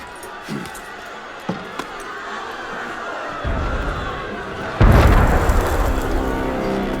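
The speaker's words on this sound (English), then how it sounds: "That was cannon fire." Cannon fire in the Assassin's Creed Unity video game, heard as a couple of deep, heavy booms that swell into a loud, rolling rumble after several smaller clicks and knocks.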